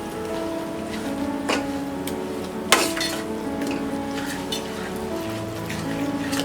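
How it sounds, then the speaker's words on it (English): Pickle masala for an instant mango pickle sautés in a pan, giving a steady close sizzle with a couple of sharp utensil clinks against the pan and no talking. "This is the pickle masala. I'm going to add this as well. Saute it for about 2 minutes."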